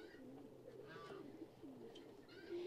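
A pair of ringneck doves coo softly in an aviary, with repeated low rolling calls close by and a few faint higher chirps in the background.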